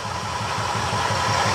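A 2004 Suzuki Futura van engine idles steadily with a low, even, pulsing rumble and a faint mechanical hum, loud and close, with no voices.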